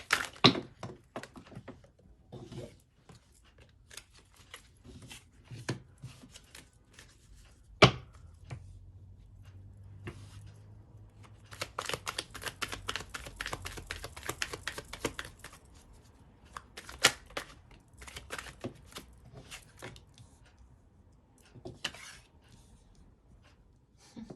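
Tarot cards are drawn and handled on a table, with scattered soft taps and thunks, then a dense riffling burst of shuffling, all fairly quiet and close.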